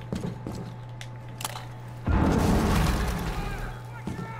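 A grenade blast in Rainbow Six Siege, a sudden loud broadband boom that swells and lingers with debris-like rumble over steady background hum.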